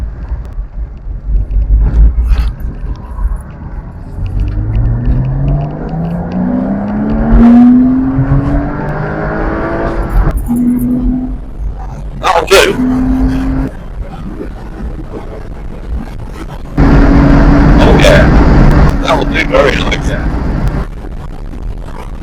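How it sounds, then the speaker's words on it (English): A 2005 Porsche 987 Boxster S engine revs close by with rising, throaty tones, then settles into a low rumble between several sharp revving bursts and a louder stretch near the end. "It just makes a nice noise, you know. It's a throaty,"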